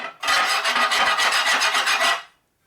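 A metal hand file rasps across a part of a big-bore stroker Shovelhead Harley motor, a steady run of close, rhythmic back-and-forth strokes lasting about two seconds before stopping.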